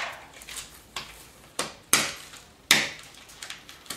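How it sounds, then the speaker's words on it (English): A flint core is bashed down onto a stone anvil in bipolar knapping, producing several sharp, close cracking impacts at irregular intervals with brief pauses between strikes. "it's by bashing the, the core down onto the anvil that came up from the bottom"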